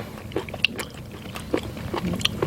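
Close mouth sounds of someone chewing abalone at a family seafood meal with octopus and sea cucumber, a series of soft wet bites and crunches with brief murmurs, no clear speech.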